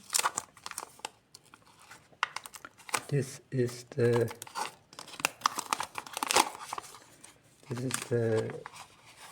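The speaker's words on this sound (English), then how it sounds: "So let's open the paper packaging." Close-up crinkling and tearing of the paper packaging of a Samsung A06 5G phone box, sharp rustles and rips in bursts, with someone talking briefly between the sounds.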